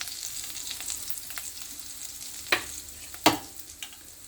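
Cumin seeds frying in hot oil in a kadai, a steady close sizzle with crackling, and two sharp spoon scrapes against the pan, no talk.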